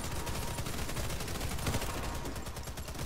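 Rapid bursts of video game gunfire crackle continuously in a tense multiplayer match near Pripyat, dense overlapping shots filling the whole stretch at steady loudness.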